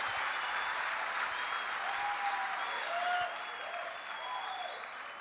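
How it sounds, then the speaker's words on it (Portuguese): A church congregation gives a strong round of applause for Jesus during a sermon. The clapping is dense and continuous, with a few faint whistles or cheers on top, and tapers slightly toward the end. "Dê para Jesus uma forte salva de palmas"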